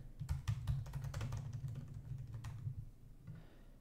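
Typing on a computer keyboard, close and quiet, with quick bursts of key clicks that thin out into a few separate taps before stopping.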